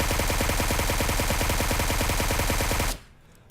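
Suppressed QBZ assault rifle from PUBG Mobile firing a sustained full-auto burst of rapid, evenly spaced shots for about three seconds, loud and close, then stopping abruptly.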